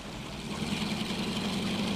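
An aircraft engine runs steadily with a droning hum and broad whooshing noise, holding a constant level throughout with no voices.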